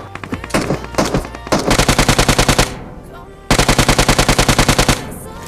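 Automatic gunfire in Battlegrounds Mobile India (PUBG Mobile): loud, close bursts of rapid evenly spaced shots, first a ragged stretch, then a steady burst, a short lull and a second steady burst.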